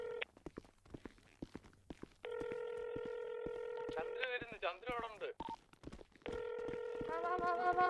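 Long steady electronic phone tones repeat, like a call ringing through a handset, with short pauses between them and brief voices nearby.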